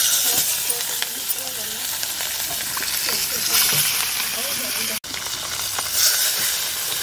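Fish frying in mustard oil with turmeric and salt, a loud continuous sizzle and crackle with a brief dropout near the end; faint voices are audible beneath.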